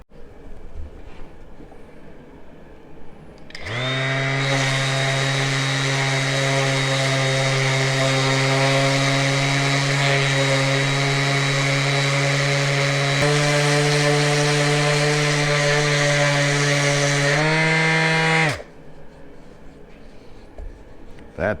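A power sander fitted with 60-grit paper smooths wooden coasters. Its motor starts with a steady, loud droning whine, holds for about fifteen seconds with a slight dip in pitch, then cuts off abruptly.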